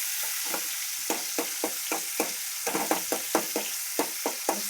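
Ginger-garlic paste frying in a pan for a simple home-style vegetable dish, with a steady soft sizzle punctuated by a dozen or so sharp scraping stirs at an uneven rhythm, close and fairly quiet, no talking.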